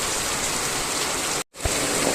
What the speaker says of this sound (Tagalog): talaga namang ang lakas-lakas po ng ulan